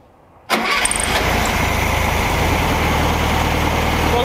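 A classic VW Beetle engine starts with a sudden burst after a moment of near silence, then settles into a loud, steady idle that runs on close by, with no voices over it.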